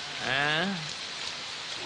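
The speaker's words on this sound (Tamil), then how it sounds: "மழை வருது இல்ல" Steady rain makes a constant close hiss, while a brief harmonic call, like a voice or a cow's low, rises and fades over it early on.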